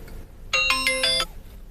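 A telephone ringback tone heard while placing a call, a short bright electronic melody of stacked tones lasting under a second, loud and close with no voices.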